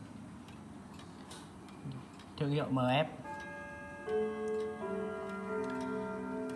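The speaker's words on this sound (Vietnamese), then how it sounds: "Mở ra thì ta có thể nghe thấy tiếng máy chạy rất là khỏe," A mechanical MF chiming clock movement ticks steadily and softly, heard up close while someone talks over it, followed by sustained ringing chime tones.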